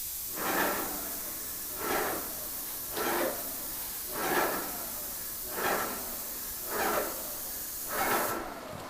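A paint spray gun lays a first coat on the casing side of a door frame, seven evenly spaced short hissing bursts, each a quick pass, with faint background hush between them.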